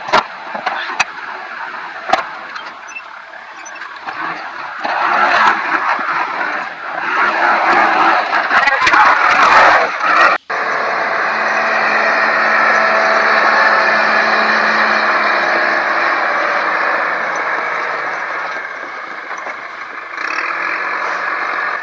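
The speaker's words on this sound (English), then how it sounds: "you can get a little bit more accurate trying to spread the rock with the backhoe rather than the bucket" A backhoe spreads and taps down gravel on a rural road, its engine roaring steadily and loudly. Crunching and clanking bursts come in the first half, then a sustained engine drone continues.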